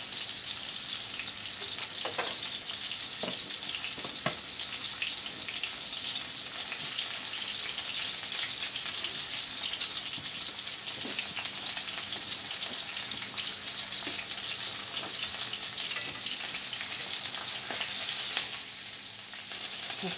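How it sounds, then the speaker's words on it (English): Hoppin John sizzles and fries steadily in a pot over low heat, a continuous crackling hiss with occasional sharper pops, close and alone with no talking. "See, I'm just getting that nice char on it"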